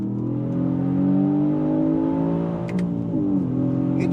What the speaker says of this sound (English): Listen to that upshift. Oh, the crack of the burst out the exhaust.